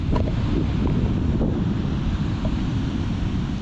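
Strong wind buffets the microphone over the constant low roar of surf rolling onto a beach in Salalah, Oman.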